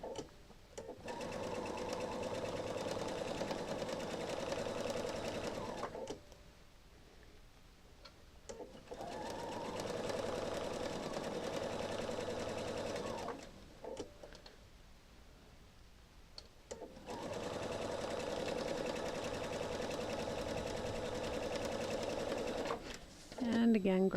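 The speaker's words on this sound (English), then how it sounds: "And now I can continue to sew on the opposite side now." A sewing machine stitches quilt pieces for a mitered rail fence quilt, running in three long steady bursts separated by brief pauses, close and fairly loud.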